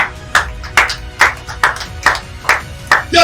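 A church congregation claps in steady unison rhythm, about eight sharp, loud claps spaced evenly roughly twice per second, with no speech over them.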